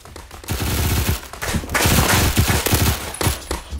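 Loud, sustained automatic gunfire in the video game Phantom Forces, with rapid rattling bursts running almost nonstop through the moment.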